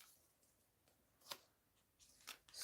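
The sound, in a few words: tarot cards being shuffled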